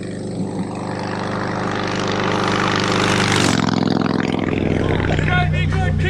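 A 1969 BSA Lightning 650 motorcycle engine runs with a steady, throbbing drone that swells as it revs up, while someone talks over it.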